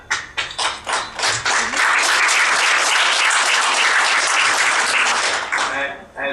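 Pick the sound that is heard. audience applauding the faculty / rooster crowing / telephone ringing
audience applauding the faculty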